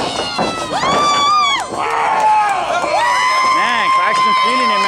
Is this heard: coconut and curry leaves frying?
no